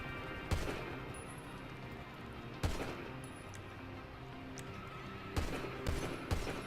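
Video game gunfire from GTA 5 with tracer rounds: several sharp, loud shots crack out at irregular intervals, some in quick doubles, over a steady dense background din.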